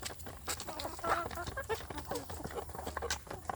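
A group of young village chickens (ayam kampung) being raised into breeding hens, giving a busy stream of close cheeping and clucking with soft pattering in the pen.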